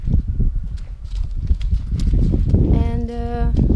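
A horse's hooves clop at a steady walk on the ground close by, light irregular footfalls under brief vocal sounds and a short tonal squeak near the end.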